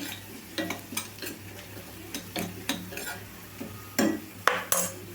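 Onions and green chilies frying in a pan for coriander chutney, with a soft sizzle beneath irregular scraping and clinking strokes of a spoon stirring, close and fairly quiet.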